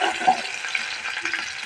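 Chopped onion fries in hot oil with a close, steady hiss and sizzle, stirred briefly as it cooks.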